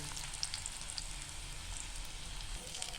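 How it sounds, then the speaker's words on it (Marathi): Pea cutlets frying in a pan and being browned on their second side, giving a steady low sizzle with faint popping that runs without a break at low volume. "आता दुसऱ्या साईडला पण आपण त्यांना असं गोल्डन कर येईपर्यंत फ्राय करून घेऊया"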